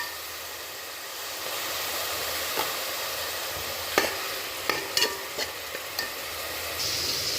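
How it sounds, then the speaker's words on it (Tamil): A ground spice paste and ginger-garlic paste for mutton and keerai curry sizzle loudly and steadily in a pan, with a few sharp spatula clinks and scrapes as it is stirred midway. "இது பச்சை வாசனை போகிற அளவுக்கு நல்லா வதக்கிக்கலாம்"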